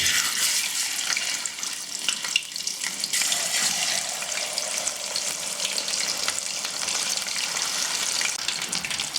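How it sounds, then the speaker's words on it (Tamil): Chicken pieces deep-frying in hot peanut oil in a kadai, a steady dense sizzle and bubbling roar that stays loud and continuous throughout with no talking. "இப்போ நம்ம அதை பொரிச்சு எடுத்துடலாம் சிக்கனை."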